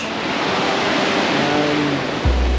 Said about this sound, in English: This is Mai Nam Beach.